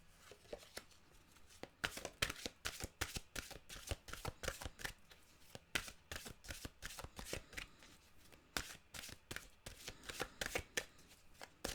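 Mantra cards are shuffled by hand in a steady run of sharp, crisp riffling bursts for nearly twelve seconds, close and fairly loud, with no voices.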